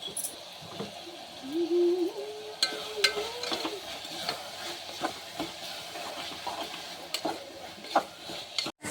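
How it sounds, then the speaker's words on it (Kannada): Chili powder and turmeric frying in a pan, a soft steady sizzle with scattered clicks and scraping stirs, no talking. "ಹಾಕ್ಬಿಟ್ಟು ನೀಟಾಗಿ ಅದನ್ನೆಲ್ಲ ನೀಟಾಗಿ ಫ್ರೈ ಮಾಡ್ಕೋಬೇಕು"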